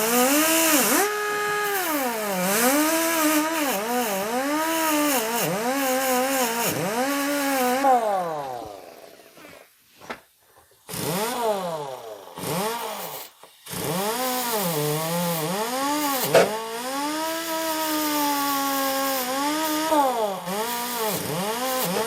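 A power tool cleans rust off an oil pan stud on a 2009 Pontiac Vibe GT 2.4, a whining motor rising and falling in pitch in repeated bursts, briefly stopping midway before resuming steadily.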